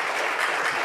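A concert audience claps to welcome an organist, dense steady applause filling the short moment without speech.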